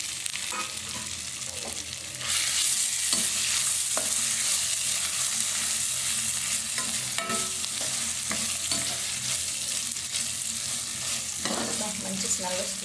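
Grated raw mango frying and being stirred in a pan for mango pulihara: a steady, close, loud sizzle with scraping stir strokes cutting through at intervals, no voices.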